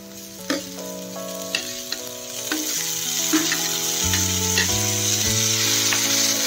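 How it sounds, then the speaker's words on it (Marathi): Tomatoes sauté in a pan for egg bhurji, giving a constant close sizzle with a few scraping stirs near the start, partly covered by loud steady background music. "त्याला पण आता व्यवस्थित परतून घ्यायचं आहे। टमाटर सॉफ्ट होईपर्यंत।"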